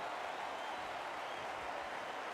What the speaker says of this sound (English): The crowd going mad.